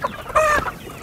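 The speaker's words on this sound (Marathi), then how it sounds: "हे असे विचित्र जनावर आहेत कोंबड्या आपल्या." A hen on a goat and poultry farm lets out one short, close cluck over quiet background, with no talk.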